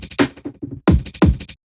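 Amen drum break and instruments passed through a filter during a liquid drum and bass breakdown, first thin and muffled hits, then the full bright break with heavy kicks bursting back in.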